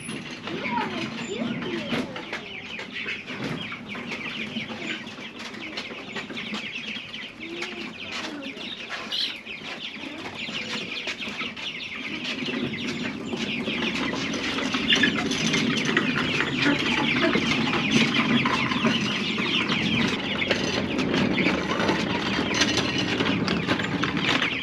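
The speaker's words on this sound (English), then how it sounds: "These are our Big Red Broilers. It's a 4-week-old chick." Young Big Red Broiler chickens, about four weeks old, cluck and chirp on open pasture in a steady chorus of overlapping calls, with outdoor background noise throughout and growing busier toward the end.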